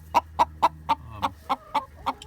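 Chickens cluck in a coop where hens sit on eggs, eight evenly spaced, close and clear clucks in a steady rhythm.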